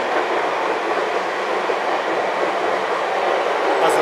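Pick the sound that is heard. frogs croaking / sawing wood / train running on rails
train running on rails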